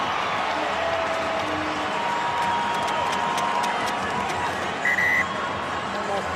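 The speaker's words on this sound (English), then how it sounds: "there's celebrations from the crowd wearing the Springbok replica jerseys" Stadium crowd at a South Africa versus Japan Rugby World Cup match cheers and applauds in a broad, steady roar, with a short buzzer-like tone near the end.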